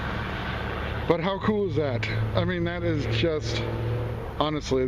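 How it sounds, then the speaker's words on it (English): A dump truck rumbles past outdoors during a metal detecting outing, a steady low engine drone running beneath someone talking excitedly throughout. "Got a dump truck going by."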